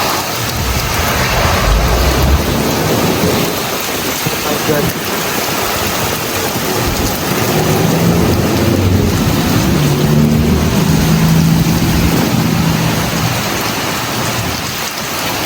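Heavy rain hammers down with wind and rumbling thunder, a dense, loud roar throughout, while a voice briefly exclaims over the downpour.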